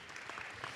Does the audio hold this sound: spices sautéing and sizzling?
no